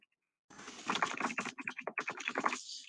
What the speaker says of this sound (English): So I can type in here